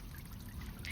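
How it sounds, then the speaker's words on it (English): Backyard pond pump fountain spraying water up and recirculating it through the pond, a soft continuous pouring and trickling wash, steady and fairly quiet throughout. "the water's still circulating through, right? Like it sprays up and then it goes back through the pond pump"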